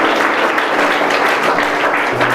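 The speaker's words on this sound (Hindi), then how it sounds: "जोरदार ताली बजा दीजिए" Congregation at a Sunday church service in Aurangabad clapping loudly and continuously, a thick, close wall of applause with no break.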